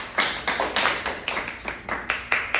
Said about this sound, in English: clap it up for Khalees once again